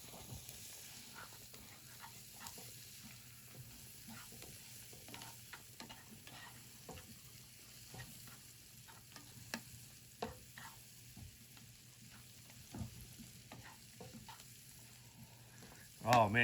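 A knob of butter and garlic sizzle in a frying pan for Steak Diane, a soft, steady frying hiss with frequent small stirring clicks, close and quiet, and a louder clatter at the very end.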